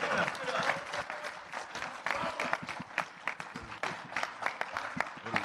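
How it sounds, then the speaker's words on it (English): Applause and scattered cheering from a crowd at a boxing press conference, uneven bursts of clapping rising and falling with crowd noise underneath. "round of applause for these two"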